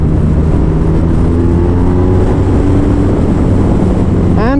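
A BMW R nineT motorcycle engine pulls hard and steady from close range, a loud, continuous low growl with wind rush, then climbs sharply in pitch as it accelerates at the very end.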